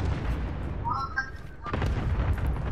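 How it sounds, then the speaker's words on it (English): Missiles explode in a Call of Duty: Modern Warfare match as heavy booming blasts and rumbling, with loud bursts at the start and again near the end, mixed with gunfire and other battle noise. "Damn, somebody dropped missiles over there."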